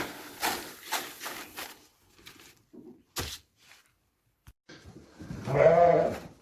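Sheep bleat inside a barn at feeding time, a few short calls early on and a louder, longer bleat near the end, with quiet gaps and small thumps between.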